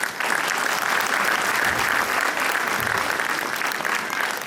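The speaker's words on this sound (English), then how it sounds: "I think for these scintillating performances, Team APJ it deserves a big round of applause." A school audience gives a round of applause after student performances, a dense, sustained wash of clapping at even loudness from start to finish, with no talk over it.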